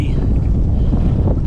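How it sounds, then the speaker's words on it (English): Strong 20 mph wind with gusts sweeps over an open intracoastal waterway, buffeting the microphone of a pedal kayak in a loud continuous low roar. "It's supposed to be windy, 20 mile per hour winds for sure, steady with gusts maybe up to 30."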